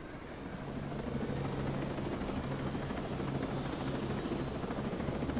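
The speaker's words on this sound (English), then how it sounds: "Alright, get to the chopper, people!" Helicopter in the video game Ghost Recon Breakpoint, a steady loud rotor drone with low throbbing blades that holds constant throughout, no voices.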